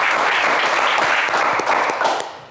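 A game show studio audience applauds a contestant, a thick wash of clapping held steady before thinning out and fading toward the end.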